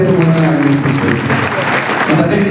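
Loud, dense applause from an audience at a public event where a member of parliament distributes motorised tricycles, a continuous wash of clapping filling the whole moment with voices mixed in.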